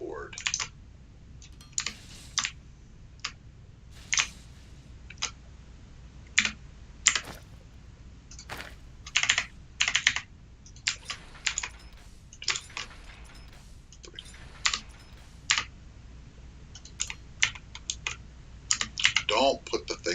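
Rapid, irregular bursts of typing on a clicky computer keyboard, close and crisp, with sharp keystroke clicks clustered in quick runs and short pauses over a low background hum.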